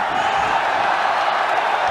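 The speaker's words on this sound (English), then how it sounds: "Every time Aung La lands, this crowd goes crazy." A sellout stadium crowd roars and cheers at a martial arts fight at Thuwunna Indoor Stadium, a dense, continuous wall of cheering that stays loud throughout.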